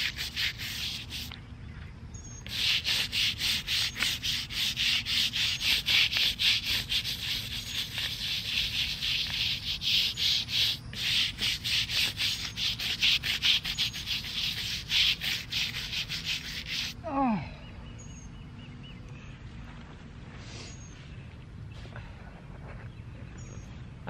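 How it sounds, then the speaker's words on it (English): A tombstone scrubbed clean outdoors with a brush, giving a loud, continuous close-up rasping scrub for about fifteen seconds that then stops, leaving quieter background sound. "Let me scrub it."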